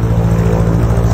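An old armored propeller plane in the Brick Rigs game revs for takeoff, a close, steady low drone with a pulsing propeller throb and no voices.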